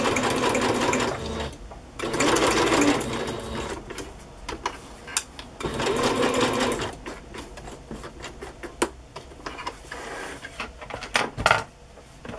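A sewing machine stitches in close, steady bursts while boho fabric pockets with bead trim are sewn, then pauses as fabric is shuffled and tapped, followed by quieter intermittent clicks and a final short run.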